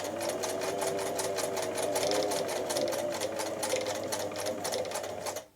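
A Singer 247 sewing machine running a zigzag stitch, a steady, fast rhythmic clatter with an even motor hum, close and continuous before stopping at the end.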